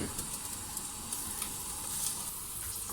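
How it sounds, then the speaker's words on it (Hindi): Onions sizzle steadily in hot oil after garlic-ginger paste is stirred in for a chicken and turnip curry, a continuous close frying crackle with no talking. "अब मैं इसके साथ ही लहसुन अदरक का पेस्ट भी शामिल कर दूंगी।"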